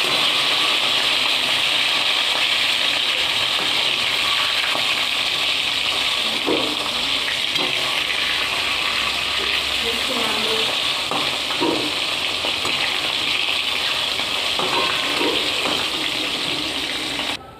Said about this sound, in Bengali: একে একে মাছগুলো ছেড়ে দিয়ে লাল লাল করে ভেজে তুলে নেব